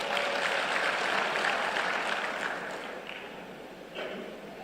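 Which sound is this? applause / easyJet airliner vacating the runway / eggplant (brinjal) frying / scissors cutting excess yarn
applause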